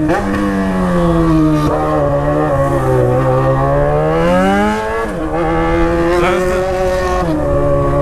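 A loud Yamaha XJ6 motorcycle engine drones steadily in city traffic, its pitch rising and falling as it revs, continuous and close throughout.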